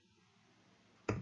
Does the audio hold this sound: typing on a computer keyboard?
yes